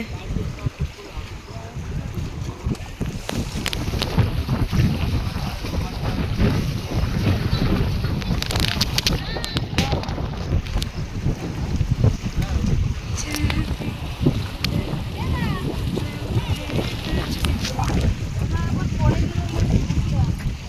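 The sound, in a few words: wind blowing by the riverside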